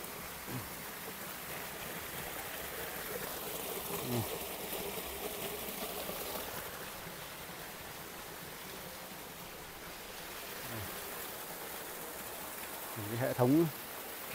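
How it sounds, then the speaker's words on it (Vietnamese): A mountain stream in a trout-farming area on Mau Son mountain, Lang Son, rushes with a steady, broad wash of water close by, and voices speak briefly over it near the start and end. "Khe suối các bạn."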